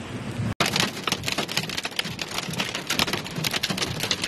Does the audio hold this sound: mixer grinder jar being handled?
no